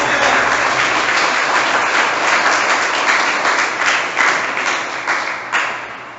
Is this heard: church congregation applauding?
yes